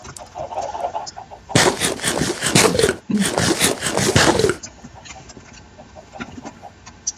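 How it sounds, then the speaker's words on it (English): Chickens cluck in the video game Minecraft, soft scattered clucks at the start and end framing a loud, dense burst of harsh noise in the middle. "Chickens."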